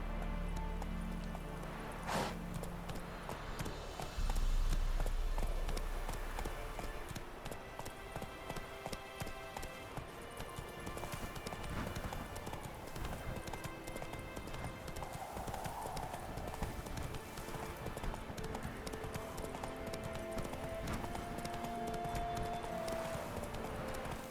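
Horse hooves clip-clop in a steady galloping rhythm through The Witcher 3 game, continuous and mid-level over ambient game sound, with a brief snort early on.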